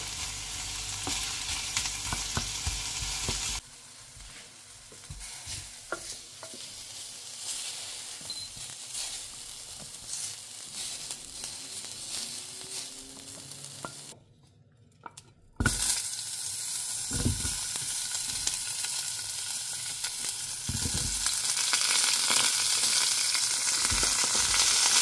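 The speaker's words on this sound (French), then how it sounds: "Je fais cuire les carottes et les oignons." Carrots and onions frying together in a pan, a steady broadband sizzle throughout with stirring clatter, a brief quieter dip midway before the loud frying resumes.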